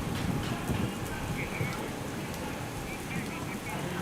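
Heavy monsoon downpour in Gujarat, a dense, steady roar of rain hammering surfaces with no letup from start to finish.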